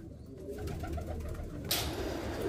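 Baby pigeons of the teddy and kamgar breeds give soft cooing and squeaky calls up close, with rustling and a brief louder scrape near the end.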